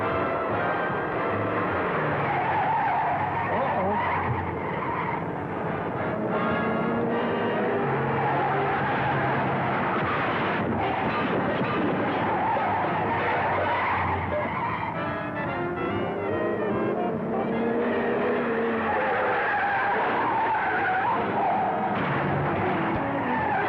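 A car speeds hard with tires skidding and squealing continuously. The sound effect comes from the 1948 film Night Time in Nevada and has a dense, band-limited engine roar and screeching rubber that hold loud and steady throughout.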